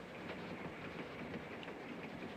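Train wheels run on rails with a steady rumble and a light rhythmic clatter under a constant hiss, heard inside a moving train in a 1955 film.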